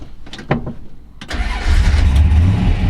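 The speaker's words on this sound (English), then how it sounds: "Starts right up." A 1963 Dodge 330 sedan with a 426 Max Wedge V8 cranks with a few quick starter bursts, then catches and settles into a loud, steady, rumbling idle close by.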